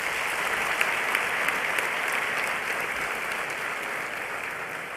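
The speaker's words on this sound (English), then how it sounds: "I'd humbly ask that all our first-year students give your parents, guardians, or members in your community a warm round of applause." Sustained applause from a university welcome ceremony audience for first-year students' parents and guardians, a dense, steady wash of many hands clapping throughout without pause.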